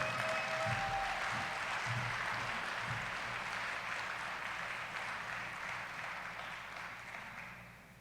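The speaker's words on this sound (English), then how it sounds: "please, everyone, a warm round of applause for Carolyn Cron" An audience at a community awards ceremony applauds in a dense, sustained wash of clapping that holds steady and slowly fades toward the end.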